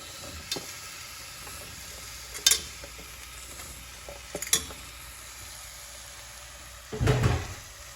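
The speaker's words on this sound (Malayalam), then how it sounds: "ഈ മസാലയൊക്കെ ഒന്ന് വഴറ്റിയതിന് ശേഷം അതിലേക്ക് കഴുകി വെച്ച തുവരപ്പരിപ്പ് ഇട്ട് ഈ മുറിച്ച് വെച്ചിരിക്കുന്ന ചുരക്കയും" Toor dal and chopped ridge gourd stirred into sautéed masala in a pan: quiet, scattered scrapes and soft clinks with a faint sizzle, ending in a louder stirring burst near the end.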